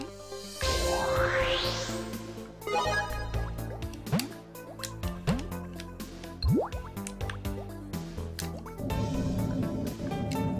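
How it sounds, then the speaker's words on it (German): Bubbly, squishy water-like blips and drips from the Giana Sisters video game, layered over steady game music with a rising sweep near the start and several quick bursts throughout. "Wie ging das mit dem Blubberbläschen?"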